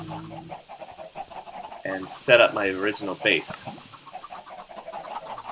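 Chickens cluck in Minecraft, a couple of short bursts of clucking over a quiet game background while a person talks throughout.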